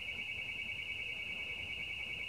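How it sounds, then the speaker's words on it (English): A steady, high-pitched electronic alarm tone drones continuously at moderate volume, unbroken for the whole stretch. "Oh, there's an alarm going off."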